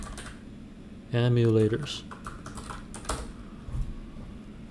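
Close computer keyboard typing, a few soft clustered keystrokes scattered over several seconds, partly under someone talking, with a brief loud tone burst near the start.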